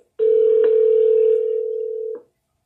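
A steady telephone dial tone sounds loud and alone for about two seconds, then cuts off abruptly.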